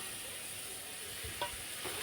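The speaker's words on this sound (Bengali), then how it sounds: "এবার একটু তেজপাতাও দিয়ে দিচ্ছি একটু শুকনো লঙ্কাও দিয়ে দিচ্ছি" Bay leaf and dried chilli frying in hot oil for a vegetarian potato and pointed gourd curry give a faint, steady sizzle with a couple of soft stirring knocks near the end.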